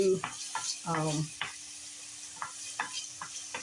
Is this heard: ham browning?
yes